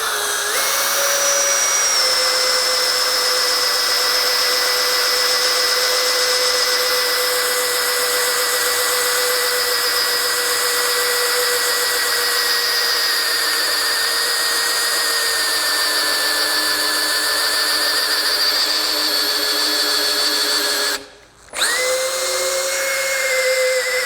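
A Metabo HPT 18V MultiVolt hammer drill runs under load, a loud high-pitched whine held steady for about twenty seconds, dipping briefly before spinning back up.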